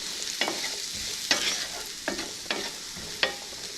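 A squash scramble cooks in a pan over moderate heat, with a low continuous sizzle broken by several sharp spatula scrapes and knocks at irregular intervals, close and clear, no talking.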